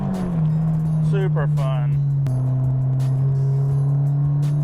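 A 2016 Scion FR-S with a Subaru boxer engine held around 5,000 RPM under throttle, a loud steady drone that dips briefly at a shift while someone talks over it.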